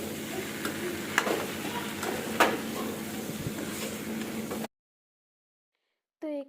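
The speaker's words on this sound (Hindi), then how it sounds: "अभी मैं यहाँ पर खाना बना रही हूँ और मैं बना रही हूँ आज आलू और गोभी की मसाले वाली सब्जी" Spiced potato and cauliflower curry frying in a pan, a loud continuous sizzle with occasional scraping stirs and clinks, cutting to silence before a brief final burst.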